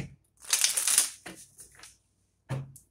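Tarot cards riffled and shuffled in hand during a reading, a quiet close-up burst of crisp papery flutter followed by a couple of shorter snaps and taps.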